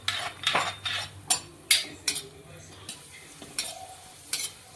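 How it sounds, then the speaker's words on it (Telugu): Cashews and raisins frying in hot ghee while a utensil stirs and knocks against the pan, repeated close scraping clatters over a soft steady sizzle. "నెయ్యి కాగినాక ఇదిగోండి డ్రై ఫ్రూట్స్లో కాజు వేసుకుంటున్నాము"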